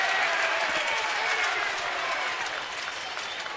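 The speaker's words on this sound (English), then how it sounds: "Every time he throws a strike, we hear applause coming up from below." Crowd applause from the stands at a Detroit-at-Baltimore baseball game, a steady, fairly loud wash of clapping through the whole clip with faint talk beneath it.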